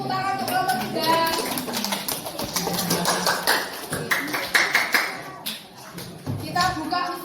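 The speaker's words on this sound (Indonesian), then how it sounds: "kasih tepuk tangan untuk kelompok 3" Students in a classroom clap for a group during a lesson on anti-bullying behavior, irregular close hand claps and taps mixed with children's chatter and voices throughout.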